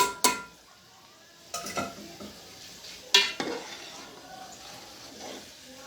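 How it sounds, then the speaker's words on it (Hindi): Soaked rice goes into simmering chicken yakhni stock for pulao: a few sharp metallic clinks and scrapes of a spoon against the pot come over a soft bubbling, sizzling background. "पानी हमारा पकने लग गया है। अब हम इसमें चावल डाल देंगे।"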